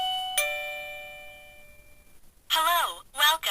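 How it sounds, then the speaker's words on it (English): A wireless doorbell triggered by its remote button rings out a single ding that rings on and fades, followed by a recorded voice greeting played through the chime unit's loudspeaker. "each time I press this now, it will ring this doorbell"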